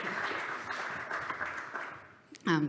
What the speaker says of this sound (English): Can we have a nice round of applause?